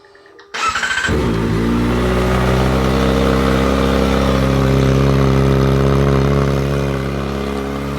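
A Kawasaki Ninja ZX-4RR with a new titanium exhaust cranks and fires up, then settles into a loud, deep, steady idle with a throaty, rumbling exhaust note close by.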